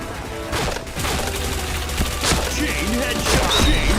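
Rapid video-game gunfire in bursts of repeated shots, loud and close, with game sound effects layered around the firing.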